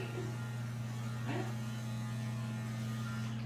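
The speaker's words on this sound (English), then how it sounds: "So we're going to go in now and shave her with our 4-blade." Four-blade dog grooming clippers run while shaving a heavily matted dog, giving a steady electric buzz with a low hum that holds unchanged throughout, fairly quiet and close.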